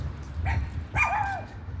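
A dog barks a couple of times from outdoors along a street, the short barks followed by a drawn-out whining yelp over steady low background rumble.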